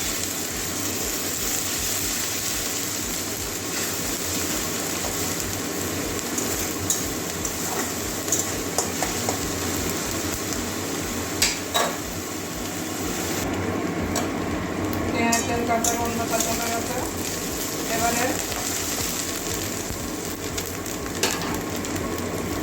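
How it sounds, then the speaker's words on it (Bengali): Ground onion paste fries in a pan for a mushroom and potato curry, giving a steady broadband sizzle that holds through the whole stretch, with occasional scrapes and clinks of a utensil against the pan and no talking. "বেটে রাখা পেঁয়াজটা দিয়ে দেবো পেঁয়াজের কাঁচা গন্ধ দেওয়া পর্যন্ত ভেজে নেবো"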